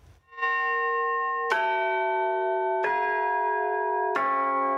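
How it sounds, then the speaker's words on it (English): A century-old town hall bell in Fremantle tolls four times at an even, slow pace, each strike ringing out and sustaining into the next. "A century-old bell ringing in a new era for Fremantle's town hall."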